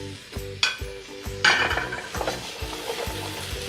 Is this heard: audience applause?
no